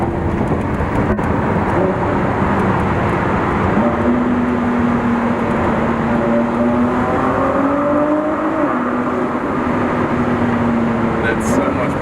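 A Ford GT's engine pulls hard and steady with rising, shifting tones as it accelerates into a tunnel near San Francisco, loud and continuous for the whole stretch, with a voice briefly audible.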